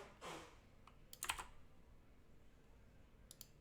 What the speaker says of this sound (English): my stream's going to hear me clicking around a lot